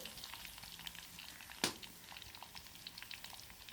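Garlic fries in hot oil with a quiet, steady crackling sizzle, broken once by a single sharper pop midway through.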